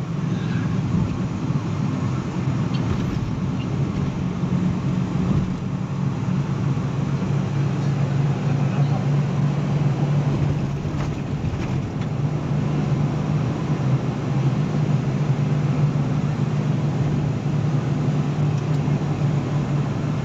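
Toyota Corolla EE100 big body on a test drive in Tarlac, a steady engine drone and road rumble from inside the cabin, continuous and fairly loud with a constant low hum throughout.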